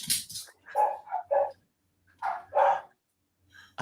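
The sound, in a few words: dogs barking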